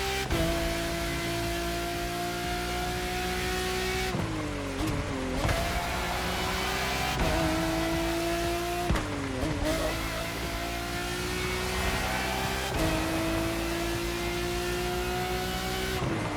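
A car with four exhaust pipes accelerates hard around a track, its engine loud and steady with rising pitch that drops at each gear change before climbing again.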